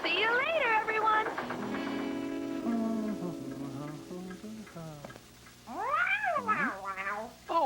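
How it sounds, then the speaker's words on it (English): A cartoon cat gives several rising and falling meows, one long drawn-out yowl in the middle and a pair of sharp meows near the end, mixed with light background sound. "Oh, Pilchard, you've covered my jacket in cat hairs."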